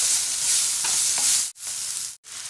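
Cooked rice stirred and fried in a pan with ginger, capsicum and coriander powder, giving a loud close sizzle with scraping spoon strokes and two brief breaks in the frying hiss.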